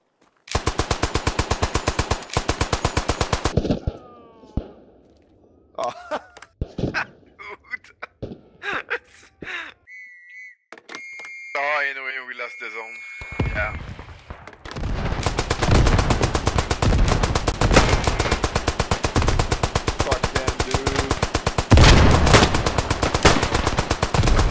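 Sustained machine gun fire in the WWI trench video game Beyond The Wire, long loud rattling bursts that open and close the stretch, with voices and quieter game sounds between them.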